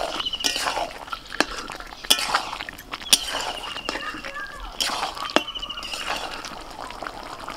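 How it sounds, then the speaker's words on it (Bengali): Lid lifted and a spoon stirring Kashmiri chicken masala in a pan, with scattered metallic clinks and scrapes over a soft sizzle, close and moderately loud. "10 মিনিট পরে ঢাকাটা খুলে একবার নাড়াচাড়া করে দিচ্ছি।"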